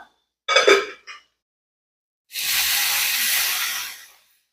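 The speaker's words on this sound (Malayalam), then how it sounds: "ഇനി നമ്മൾ വേവിച്ച് വെച്ചിട്ടുള്ള ലിവർ നമുക്ക് ഇതിലേക്ക് ചേർത്ത് കൊടുക്കാം" Cooked beef liver hits hot masala for a Kerala-style fry and sizzles in a loud, steady hiss lasting almost two seconds, preceded by a couple of brief clattering bursts, with no talk.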